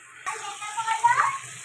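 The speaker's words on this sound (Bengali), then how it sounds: "এবার এখানে আমি 1 মগ মতন জল ঢেলে দিলাম" Water poured from a mug into a cooking pan after the spiced vegetable mix has been fried down, a steady splashing gush starting abruptly and running on, with faint background murmur.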